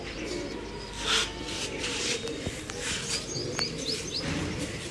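Pigeons in a Punjabi village loft give faint coos and short high chirps over steady background noise, with a couple of sharp taps.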